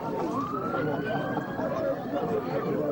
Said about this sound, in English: It sounded like there was an ambulance coming around